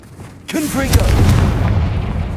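A Confringo fire spell blasts in Hogwarts Legacy, a sudden loud boom that rolls into a rumbling roar, with a voice calling out over its start.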